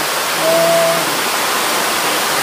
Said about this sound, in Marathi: मग आता जो हा धबधबा चालू आहे